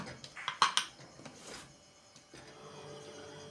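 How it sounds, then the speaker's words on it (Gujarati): Pressure cooker lid being shut over green corn in a home kitchen: a few quick metallic clinks and clacks of metal against metal, fairly close, followed by soft fainter handling noises. "હવે આપણે આનું કુકરનું ઢાંકણ બંધ કરી દઈએ"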